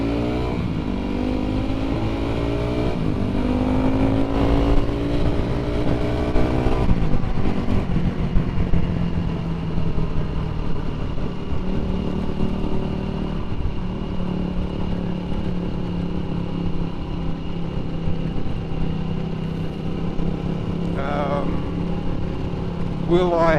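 A 2005 Yamaha WR450 dirt bike being ridden, its engine droning steadily and rising and falling as it revs and shifts, close and loud throughout.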